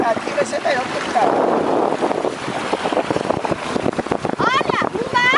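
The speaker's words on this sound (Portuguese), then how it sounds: "Olha, um barco. Outro barco." A boat out on the water, its low rumble mixed with gusting wind buffeting the microphone, while voices, including excited children, chatter over it.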